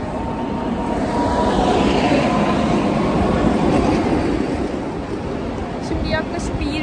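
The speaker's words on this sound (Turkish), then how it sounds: "Aa, tramvay." A tram passing on a street in Rome, a loud continuous rumbling roar that swells and then fades slightly as it goes by, with faint higher clatter near the end.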